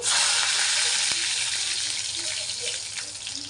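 Garlic and two red chillies hit hot oil with already-crackling mustard seeds while tempering Sindhi kadhi, giving a loud, steady close-up sizzle that eases slightly over a few seconds.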